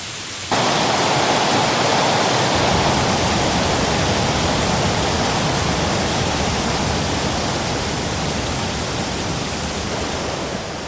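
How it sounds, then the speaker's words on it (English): Heavy rain drenching the Panama rain forest at the start of the wet season, a dense continuous hiss starting abruptly and staying loud and even throughout. "The first good drenching triggers an avalanche of change"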